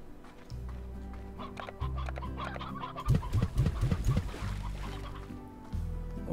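Chickens cluck repeatedly in the Slime Rancher video game, a burst of close, busy clucking in the middle over a low steady game hum.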